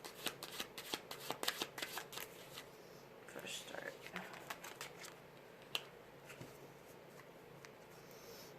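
Tarot cards are shuffled close up in rapid riffling bursts and soft slaps, quiet and crisp, with a few pauses between passes.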